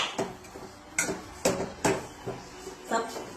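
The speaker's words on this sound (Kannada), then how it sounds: "ಆಲೂಗಡ್ಡೆ ಮತ್ತೆ ಬಟಾಣಿ ಸ್ಮ್ಯಾಶ್ ಮಾಡ್ಕೋಬೇಕು" Potatoes and peas being mashed in a pan, a series of dull knocks and clinks of the masher striking the pan at an uneven pace, with a voice talking over them.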